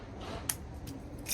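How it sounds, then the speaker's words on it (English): Scissors snipping the tag ends of fishing line on a catfish stinger rig, a few crisp close snips in quick succession. "So next we'll cut off our tag ends."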